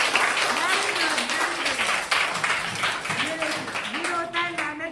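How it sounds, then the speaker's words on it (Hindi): Children in a classroom clap hard for their teacher, a dense, steady patter of many hands running throughout, with voices talking over it. "मैम का पढ़ाना जितना अच्छा लगता है उतनी जोर से ताली बजाना है"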